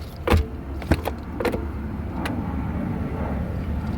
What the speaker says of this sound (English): This car even has soft closed doors, as you can see.